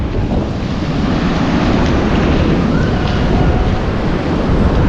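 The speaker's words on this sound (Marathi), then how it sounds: "हे बघा जो आहे आमच्या गावखडी गावातलं समुद्र" Sea waves at Gavkhadi beach on the Ratnagiri Konkan coast make a loud, unbroken roar of surf mixed with heavy wind buffeting close to the microphone, steady throughout with no voices.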